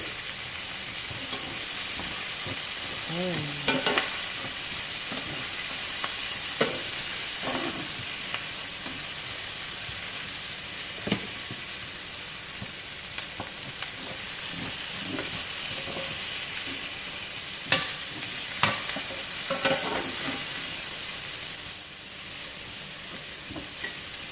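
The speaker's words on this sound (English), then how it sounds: "so you want to saute till the onions is translucent" Garlic and onions sauté in a pan for a spicy bourbon chicken sauce, giving a steady close sizzle with intermittent scrapes and clinks as they are stirred, without any voices.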